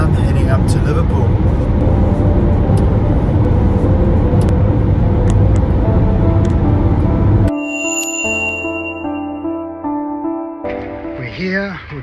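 A car driven on the road at half past five in the morning, a loud steady road and engine rumble for most of the stretch, then a quieter cabin with a chiming tone near the end.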